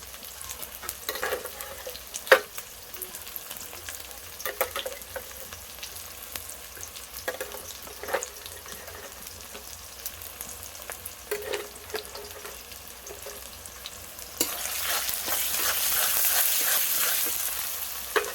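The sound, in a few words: ginger garlic paste frying and being stirred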